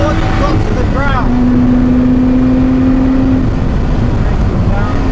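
A car engine on the Donington Park circuit drones loudly inside the cabin, holding a steady pitch before easing, while a voice talks over it.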